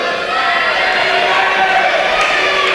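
A basketball crowd at a women's game against Newman shouts its pick, Chick-fil-A, in a loud, sustained roar of many voices that fills the arena.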